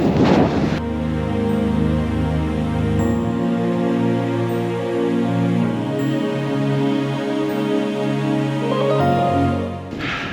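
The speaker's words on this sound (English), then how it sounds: "but it is windy" Steady, roaring wind on a mountain ridge in North Macedonia buffets the microphone throughout, a continuous low rumble with gusty swells and no voices.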